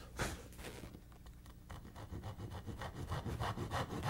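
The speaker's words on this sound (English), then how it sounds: "Remember, the saw cut must be in the waste." A hand saw cuts angled dovetail kerfs in wood held at a bench, a quiet, close, rhythmic rasp of back-and-forth strokes with no talking over it.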